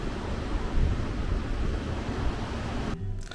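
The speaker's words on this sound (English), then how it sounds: "The sound of the waves is amazing." Ocean waves wash steadily onto a beach in Cancun, with gusty wind roaring across the microphone throughout. The sound cuts to near quiet at the very end.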